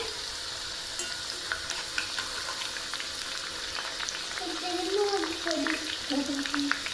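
Homemade potato chips frying in hot oil give a continuous close sizzle with bursting bubbles, while voices murmur faintly underneath.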